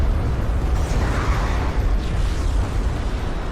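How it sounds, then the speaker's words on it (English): A nuclear missile launching in a strategy video game, a loud, sustained rumbling blast that roars steadily without a break and carries no voices. "Nuke is launched."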